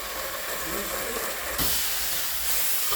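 Steady loud hissing and sizzling as water hits a hot wok of stir-fried morning glory, with a sudden surge of steam midway that stays strong to the end.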